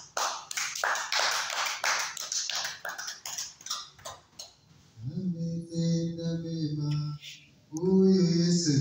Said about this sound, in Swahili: Tupigie makofi mazuri.